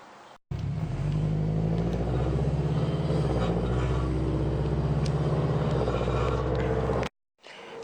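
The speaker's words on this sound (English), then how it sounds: "We hear an exhaust rattle." A 2017 Toyota GT86 with a 2.0 engine and 6-speed automatic, close and steady with a low rumbling drone and a buzzing metallic exhaust rattle for several seconds, then cutting off.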